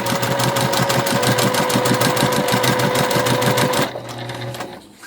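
A sewing machine stitches fabric edges together in a fast, steady run of needle strokes, loud and close, then slows and winds down near the end with no talking.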